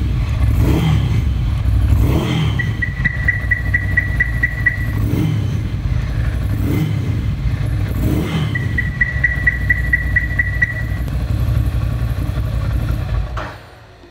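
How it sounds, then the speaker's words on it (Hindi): A Scrambler motorcycle engine idles to warm up, a loud, close, steady low rumble with a faint periodic whine, until it cuts off at the end. "अभी इसको थोड़ा स्टार्ट करके रखते हैं, थोड़ा इतना गाड़ी थोड़ा गर्म हो जाए"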